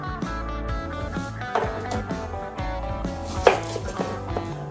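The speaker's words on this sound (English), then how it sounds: "we're going to cut up an onion" A knife chops a Vidalia sweet onion on a cutting board, with quick repeated taps and knocks, close and clear, and no talking.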